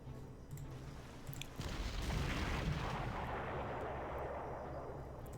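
Naval guns fire from warships in the Panzer Corps strategy game's Operation Sealion battle: a heavy boom hits early, then a loud, sustained rolling roar of gunfire and explosions continues to the end, with no voices.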